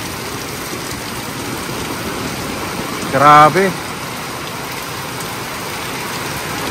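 Heavy rain falls steadily on flooded ground in a rural Philippine setting during a typhoon, making a dense, constant hiss. A voice speaks briefly over it partway through.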